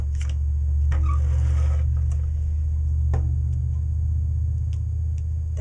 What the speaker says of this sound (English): That's a loud truck.